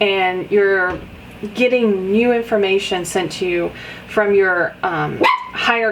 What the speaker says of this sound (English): Smallest one, and she has to have the biggest bark.